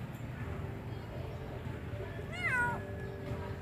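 A stray kitten gives a single short, rising and falling meow near the end, faint against a quiet background hum.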